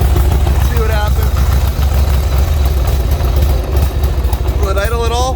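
Harley-Davidson motorcycle engine idling roughly, a loud, deep, continuous rumble with uneven throbbing pulses, close up, while people talk over it.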